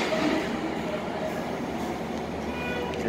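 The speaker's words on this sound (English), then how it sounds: "That's the Virginia Rail Express Railway," A Virginia Railway Express commuter train rumbles past at a station in Alexandria, Virginia, as a steady loud rolling roar of wheels and cars with no breaks.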